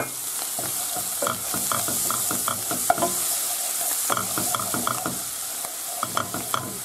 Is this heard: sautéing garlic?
yes